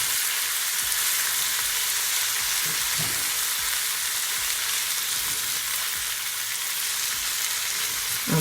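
Callaloo frying in a pan for Jamaican saltfish fried rice, a steady loud sizzle with faint stirring scrapes now and then, no voices over it.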